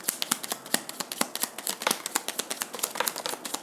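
Tarot cards are shuffled in quick, crisp riffling flicks, a dense run of close, fairly quiet snaps with no voices.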